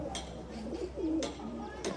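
Pet pigeons kept by a pigeon fancier coo softly in short repeated phrases, fairly close, while a person talks nearby.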